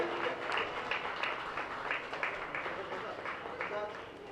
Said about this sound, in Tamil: அனைவரும் கரகோஷம் எழுப்பும்படியாக அன்புடன் கேட்டுக்கொள்வோம்.